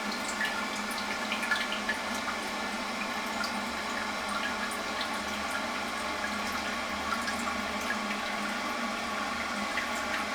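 A toilet tank refills steadily through its fill valve, with a continuous hiss of rushing water running the whole time at an even, moderate level and no voices.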